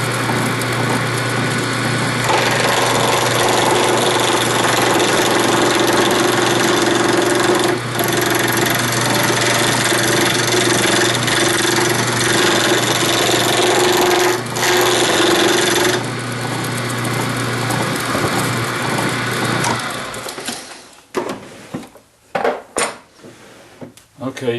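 Wood lathe turning a block of burl wood for a game call, a loud steady whirring drone with a constant low hum and broadband scraping for about twenty seconds, then the motor winds down into scattered knocks and quiet.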